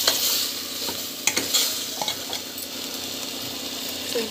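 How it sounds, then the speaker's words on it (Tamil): Onions sauté with rock salt in a hot pan, giving a loud, close sizzle at first that gradually settles, with a few sharp scrapes and taps of the spoon against the pan and no speech. "நல்லா வந்து வதங்கட்டும்"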